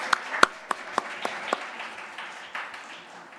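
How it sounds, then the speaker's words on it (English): Scattered audience clapping at a guild officer elections results night, a few sharp claps at first then thinning into sparse, fading applause. "we can give her another round of applause in her absence"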